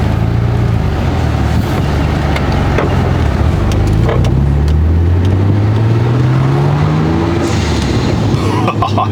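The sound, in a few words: Nissan R34 GTR engine while driving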